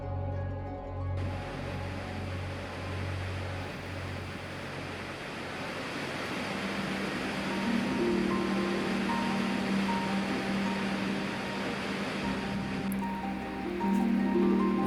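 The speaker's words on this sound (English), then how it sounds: "When you get up close, it's a thundering brute of cascading water." Skogafoss, one of Iceland's biggest waterfalls, roars up close as a thundering mass of cascading water, a dense, constant rushing wash with some wind buffeting on the microphone.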